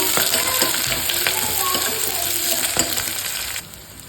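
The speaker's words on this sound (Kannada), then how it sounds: "ಅದ್ರ ಜೊತೆಗೆ ನಾನು ಈರುಳ್ಳಿ ಕೂಡ ಹಾಕೊಳ್ತಿದ್ದೀನಿ ಸ್ವಲ್ಪ ಇದನ್ನು ಬಾಡ್ತಾನೆ" Onions sautéing in oil in a pan for naati-style veg biryani, a steady close sizzle with stirring clinks and scrapes throughout, quieting slightly near the end.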